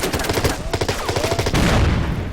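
A dense crackling burst of rifle and machine-gun fire from units in the Order of Battle: Winter War strategy game, loud and continuous rapid shots layered over each other for a couple of seconds.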